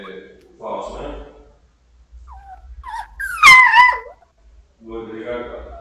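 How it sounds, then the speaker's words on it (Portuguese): A dog barks and whimpers in short yelping bursts, the loudest cry rising sharply near the middle, with people talking around it. "o cachorro do nada"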